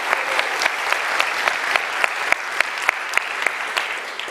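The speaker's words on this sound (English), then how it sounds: "So please give them a round of applause and a big thank you for all of you." An audience at a political event applauds, a dense, even wash of clapping with a few louder individual claps standing out, sustained throughout with no speech.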